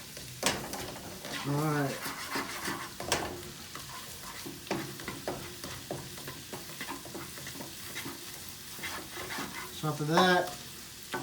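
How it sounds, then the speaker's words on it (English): Ginger and garlic fry in butter in a hot pan, browning with a steady crackling sizzle and occasional scrapes, while a person talks briefly over the cooking. "Trying to heat up a little bit higher so it will caramelize, not caramelize, but it will brown the gingers and the garlic."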